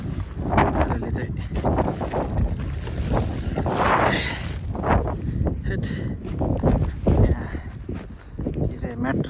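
Strong wind buffets a campsite in Snowdonia, Wales, roaring in heavy gusts and rumbling against the microphone throughout, with people talking over it nearby.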